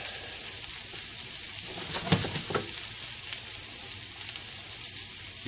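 Shallots sweating gently in a pan give a soft, even hiss with light crackles and a few clicks of a utensil midway, close but fairly quiet.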